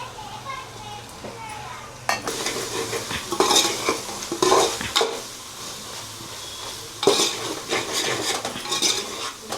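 Meal maker pulao with biryani masala stirred in a frying pan: a soft continuous sizzle under repeated scraping and clinking of a spoon against the pan in irregular bursts, close, with a voice talking over it.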